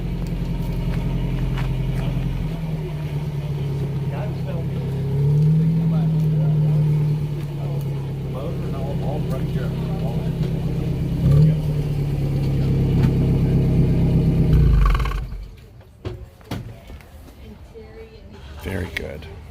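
A classic car's engine idles with a steady low drone and rises in pitch a couple of times as it is revved at an outdoor car meet, then shuts off near the end, leaving quieter background sounds.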